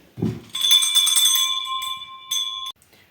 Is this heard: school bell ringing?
yes